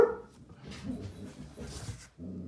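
A dog barks and whimpers nearby in short yelping bursts, a brief pause between them.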